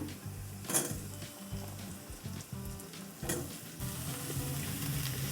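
Chopped bottle gourd sizzles in a kadhai, a soft, fairly quiet crackle with occasional sharper spatters and a low steady hum underneath, no voices.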